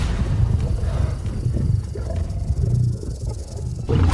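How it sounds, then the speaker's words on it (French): Lions circle close around a cage, giving low, rumbling growls and roars that run on steadily and loudly with no one talking. "On est complètement encerclés par des lions"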